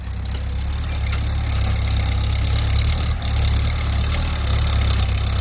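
An older Kubota L4708 tractor, a small model, idles with a steady low mechanical rumble and a faint high whine, running continuously and fairly loud with no voices over it.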